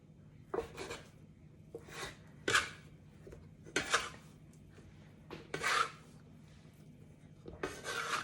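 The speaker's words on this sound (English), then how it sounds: "I am just going to cut strips out of this dough" A knife cutting strips of milk roll dough, giving soft, quiet rubbing scrapes in a few separate strokes spaced about a second apart, close and alone with no talk.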